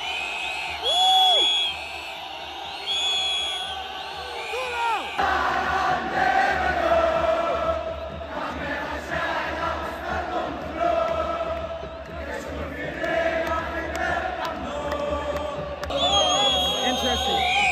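Loud football stadium crowd backing Wydad in a match against Mamelodi Sundowns: dense, sustained roaring and cheering that swells and holds across the stands, with a voice talking over it.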